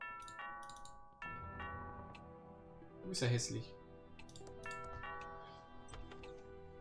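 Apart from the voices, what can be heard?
doorbell ringing in video game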